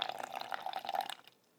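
Water poured into a bowl of whole wheat and all-purpose flour while mixing a sourdough starter, a close, steady trickling splash lasting over a second before it tapers off to quiet.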